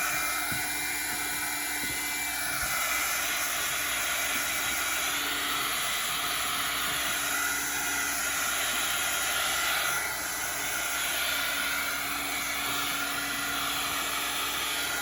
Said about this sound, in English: I'm going to flip on the dryer so we can get this dry